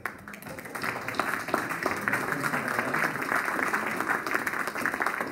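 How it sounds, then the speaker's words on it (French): An audience applauds Mme Bonin at her last sitting of a municipal council meeting, a steady broad wash of clapping running the whole time at moderate volume. "soyez avec moi pour l'applaudir"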